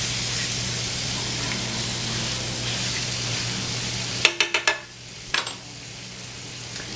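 Pan drippings for smothered pork chop gravy fry with a steady close hiss. Near the end it is broken by a short series of sharp clinks and scrapes from the pan.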